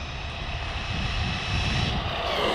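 A Losi DBXL-E 2.0 electric RC car runs at full throttle on a park speed run, giving a loud, continuous whining roar that builds slightly over a few seconds with no talking.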